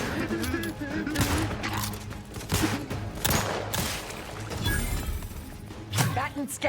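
Gunfire in the video game The Outer Worlds 2, scattered bursts of shots mixed with game effects, heard under near-continuous talking.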